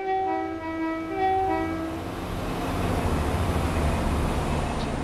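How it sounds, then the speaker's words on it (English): Strange tonal noise from a train on the Fife Circle Line in Train Sim World, a set of steady whining tones that hold and then fade under a rising low rumble of the moving train, with no talk. "yeah, weird sound emanating from the train."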